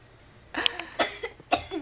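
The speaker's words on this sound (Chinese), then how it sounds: "一件姐姐咳嗽。" A child coughs several times in short, separate bursts, close to the microphone and fairly loud, with brief pauses between them and no other voices.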